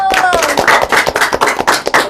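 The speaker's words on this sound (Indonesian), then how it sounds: "Tepuk tangan dulu." Short burst of hand clapping during an online school event with a vocational high school, several sharp claps in an uneven rhythm following a brief voice at the start.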